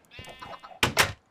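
A sheep in a video game bleats twice, a short wavering bleat followed by a louder, sharper double call, fairly faint and alone.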